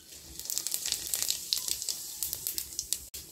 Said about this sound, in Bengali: একটু জিরে ফোড়ন দিয়ে দেবো